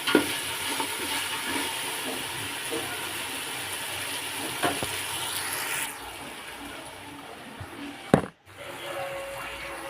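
Ginger paste and other ingredients for a coconut milk biryani fry in a pot while being stirred, a close continuous sizzle with scraping strokes that softens partway, then a single sharp clank of a utensil.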